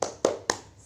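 Three sharp hand claps in a steady rhythm, close and alone, as children do a cheer clap before a kindergarten lesson.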